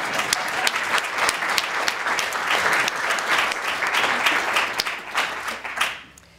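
Audience at a tribute symposium for Jón Baldvin Halldórsson breaks into dense, sustained applause, many hands clapping loudly and evenly throughout before tapering off at the very end.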